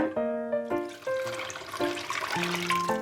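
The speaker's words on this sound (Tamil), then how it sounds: "நம்ம இனி காய்ச்சி வச்சுருக்க எண்ணெயை நல்லா ஆற வச்சு வச்சுருக்கோம். அதை இதில் ஊற்றிடலாம்." Cooled oil is poured into homemade tomato pickle in a jar, giving a close trickling pour with shifting gurgling tones that repeat in short stretches.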